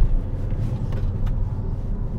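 A Skoda Octavia A5 with 318,000 km on it cruises at highway speed around 140 km/h and 2500 rpm, giving a steady low road rumble and engine drone with slight wind noise.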